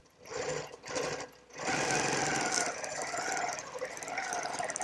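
A sewing machine runs a quilting stitch along a ruler held down with adhesive, with short bursts at the start and then a steady, close whir.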